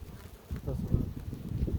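Agitated honey bees buzz close by at an opened hive during a pre-harvest check, a dense drone with a few louder passes over a low hum.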